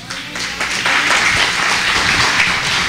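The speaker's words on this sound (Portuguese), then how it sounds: "Aplauda bem forte ao Senhor." A church congregation applauds loudly, a dense, steady wash of many hands clapping that carries on for the whole stretch.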